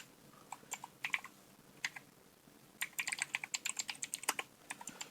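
Keys clatter on a computer keyboard while someone edits text in the Vim editor, a few scattered presses giving way to a quick, dense burst of close typing, with no voices.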